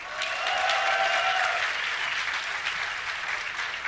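An esports crowd at a DreamHack StarCraft tournament cheers and applauds for a player, a dense, even wash of clapping and shouting held at steady volume throughout.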